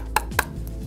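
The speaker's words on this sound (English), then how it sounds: "And this is the sound of a cork floor." Two footsteps land on a cork floor about a quarter second apart, each a short, close tap over a steady low background hum, with no talking.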